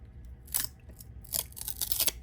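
Stuck vintage baseball cards from an old pack being peeled apart by hand, giving a few close crackling, tearing bursts of cardboard separating, one early and a longer cluster later, in an otherwise quiet room.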